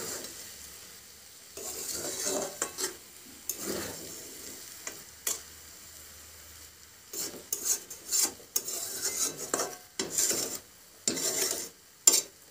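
Tomato chicken rice is stirred in a pan in bursts of scraping and rubbing, with quiet gaps between strokes and a faint sizzle, close and without talk.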